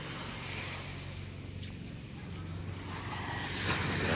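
A fishing boat engine drones at a distance over wind and lapping water near the Tanza fish terminal, growing slightly louder toward the end.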